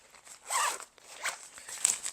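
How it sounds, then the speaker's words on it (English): A zipper pulled around a packing cube packed with shoes, heard as a few short close ripping bursts with brief pauses between them, loud and clear with no talking. "And then you zipper it up like this."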